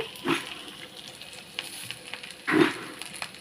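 Curry leaves and puffed rice frying in a pan, a quiet sizzle broken by two louder bursts as they are tossed and stirred with a spatula, plus faint scattered clinks.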